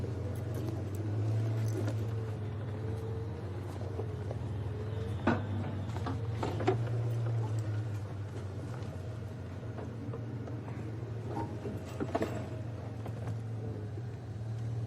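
A vehicle crawls over rough terrain with a low, steady engine rumble, punctuated by scattered knocks and thumps from the suspension and body over bumps.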